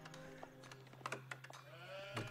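Sheep bleat in an Age of Empires IV match, several short wavering calls close up over a steady low game hum, with faint clicking like a keyboard.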